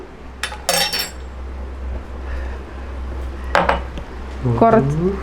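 A spoon scrapes and clinks against a pan while pepper chicken with curry leaves is stirred, giving several sharp metallic knocks over a quiet background, with a brief voice near the end.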